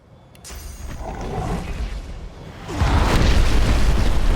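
Explosions in the turn-based video game Divinity: Original Sin, deep booming blasts that swell up, with a second, heavier rumbling burst following a few seconds later and no talking.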